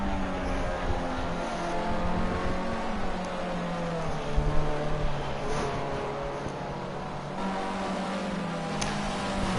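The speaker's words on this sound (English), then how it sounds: "We can see Versal Blizzard and Nemesis warming up their tyres quite aggressively." Formula C race cars warm up their tyres aggressively during qualifying, with engines droning and revving in steady overlapping tones that stay continuous and moderately distant.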